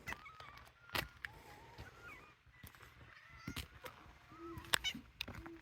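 Several cats meow and yowl near salami, with short overlapping cries scattered among rustling and light thumps, fairly close but not loud.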